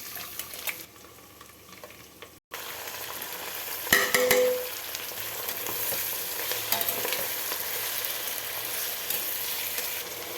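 Chopped vegetables, tomatoes, carrot, green chilli and onion, fry in a pan with a steady sizzle and scraping stirs, a sharp clatter near the start as they go in, then crackling continues alone.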